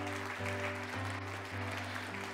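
A church congregation applauds in a dense, continuous clatter of clapping, heard together with sustained organ or keyboard chords.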